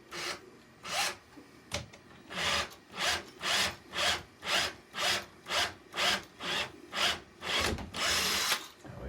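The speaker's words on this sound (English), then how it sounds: "a tiny little hole there in the board that I can now drill a little bit bigger" A rhythmic back-and-forth rasping as a small hole is widened in a wooden model railway baseboard, about a dozen even strokes in steady succession, close and fairly loud.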